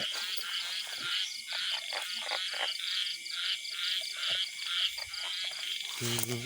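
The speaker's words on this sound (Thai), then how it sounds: "กบเยอะมากแต่จับไม่ได้" Dense chorus of frogs croaking at night, steady rapid calls layered over insect chirps, with a brief low thump near the end.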